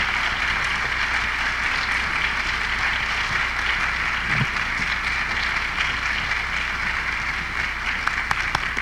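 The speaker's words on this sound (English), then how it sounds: "Please give another round of applause for Aaron." Sustained applause from an audience at a memorial celebration of life for a university president, a steady dense wash of clapping that fills the whole stretch without voices over it.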